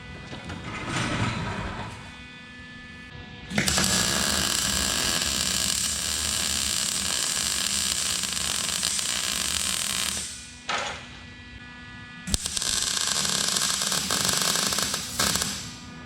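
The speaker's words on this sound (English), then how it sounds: "I'm just gonna weld it up right now." Arc welding on a 12-inch steel bar for a racing simulator shifter mount: a steady, loud crackling hiss runs for several seconds, breaks off briefly, then starts again and continues close by.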